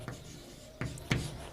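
Chalk strokes on a classroom board during a science lecture: three short scratchy bursts spaced apart, moderately close, over faint room hum with no talking.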